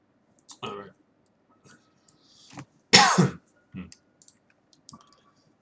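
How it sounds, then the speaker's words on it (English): A person coughs and clears their throat a few times during a livestream while making a top-down dungeon RPG, with short close bursts separated by quiet gaps and light clicking in between. "Sorry about coughing on stream"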